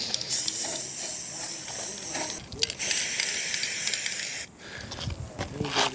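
Paint coating sprayed onto a PVC roof, a steady close hiss in two long bursts separated by brief pauses and followed by softer rustling.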